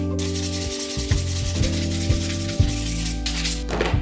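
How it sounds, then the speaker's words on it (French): A 180-grit nail file rasps back and forth across a nail to remove the remaining polish, close and steady, with short rhythmic scrubbing strokes and no talk. "je vais attraper ma lime à grain 180"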